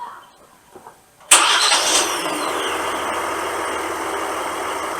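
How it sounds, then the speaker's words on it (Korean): A 2024 Kia Mohave The Master with a newly fitted Bosch electric cooling fan cranks and catches abruptly, then settles into a steady, smooth idle that stays loud and even for several seconds. "자, 시동을 걸었고요."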